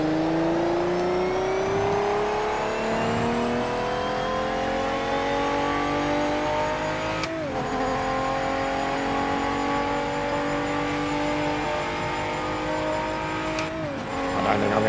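Race car engine in the video game Project Motor Racing, a Porsche, droning loud and continuous with rising pitch through gear changes and two brief upshift dips, alone without talk.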